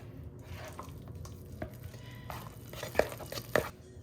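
Meat mixture with cheese being stirred in a pan for garlic steak bites in gravy, a steady soft scraping and sizzling with a couple of sharper clinks of the utensil against the pan near the end, no talking.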